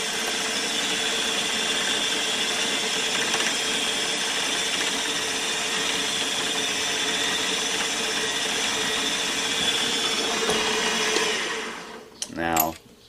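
A center drill bores a dimple into stainless steel for a fillet knife guard, making a steady, loud grinding whine that runs unbroken for about eleven seconds before stopping with a brief rattle.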